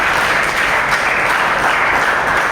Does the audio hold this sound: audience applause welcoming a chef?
yes